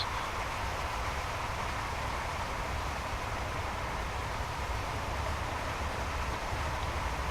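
Class 365 electric multiple unit running along track in the Train Simulator 2014 game, a steady, smooth gliding rumble with airy noise that holds at an even level throughout, with no voices.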